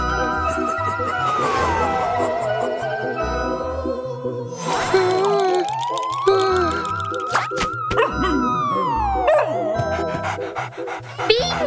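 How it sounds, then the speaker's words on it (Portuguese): Cartoon dog barking, panting and howling in a children's Halloween cartoon, with rising and falling howl-like tones and short yips over a musical backdrop, loud and continuous throughout. "Você pode latir à vontade."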